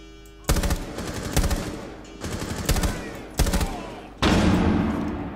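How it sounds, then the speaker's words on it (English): Gunfire and a flashbang in a Rainbow Six Siege match: rapid automatic bursts come in several loud separate volleys, and a final sustained blast with a ringing wash closes the run. "Flashbang."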